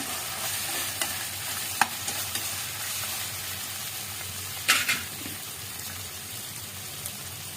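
Green chillies and vegetables sauté in a pan with a quiet, steady sizzle and hiss, broken by a few light clinks of a utensil against the pan, close up and without talking.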